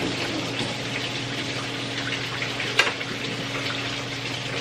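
Coolant from a BMW E28's M20B27 engine gushes out in a steady, close, continuous rushing flow, with one brief knock partway through.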